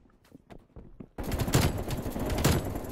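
An AK-47 firing in Call of Duty Cold War on the Nuketown domination map, a loud sustained automatic burst breaking in after a few quiet footstep-like taps.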